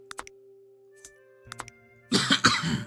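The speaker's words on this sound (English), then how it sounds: "That's why I'm coughing right now." A few sharp clicks, then a burst of harsh coughing close by, loud and rough, over a faint steady hum.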